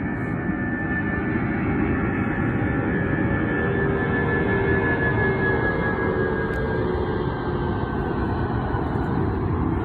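Plane taking off at an airport in Sweden, a sustained loud engine roar with a steady rumbling low end and a high whine that slowly falls in pitch, continuous and fairly near, no voices.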